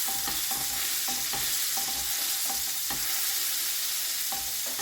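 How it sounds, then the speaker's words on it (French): A pan deglazed with white balsamic vinegar sizzles loudly and steadily up close, with light spatula scrapes and taps scattered through the hiss and no talking. "Déglacez ensuite la poêle avec le vinaigre balsamique blanc par personne."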